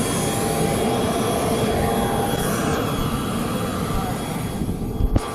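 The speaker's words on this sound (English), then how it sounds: "It's a little bit hard to hear with the jet" A jet engine roars continuously and loudly at KBED airport, a steady broad whine that drowns out everything else, ending with a couple of brief knocks.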